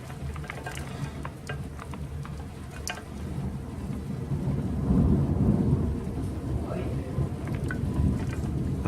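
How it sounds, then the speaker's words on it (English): Nasty thunderstorm with hail still falling: steady dense rain and hail patter throughout, with low rolling thunder swelling louder in the second half and no voices. "Now this is a thunderstorm."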